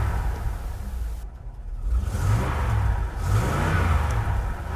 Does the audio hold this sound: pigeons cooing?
no